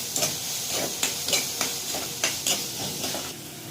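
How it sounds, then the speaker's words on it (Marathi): Onions and green chilies sizzle in butter in a kadhai for pav bhaji gravy, a steady close hiss broken by repeated stirring scrapes about every half second, with no talking. "हे आपण कढाईमध्ये बटर ॲड केलेले आहे। यात आपण कांदे, मिरची टाकूया।"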